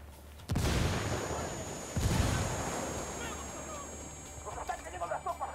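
A frag grenade blast in Ghost Recon Wildlands, two heavy booming explosions about a second and a half apart with rumbling decay, followed by scattered distant gunfire and voices.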